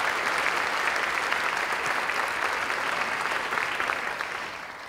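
Audience at a concert in Old San Juan, Puerto Rico, applauding the neighbors, a full, sustained round of clapping that holds steady and then begins to fade toward the end.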